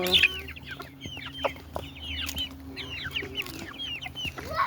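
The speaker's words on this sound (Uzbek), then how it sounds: "Hammasi jo'ja bular, jo'jalarim." Chicks and hens cluck and peep in a busy, overlapping chorus at close range. Soft scuffling and faint farmyard rustling run underneath.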